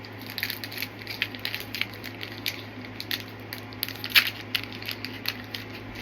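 Pokemon TCG booster pack being torn open, a close series of crinkly foil rips and crackles in short uneven bursts over a low steady hum, with no talk.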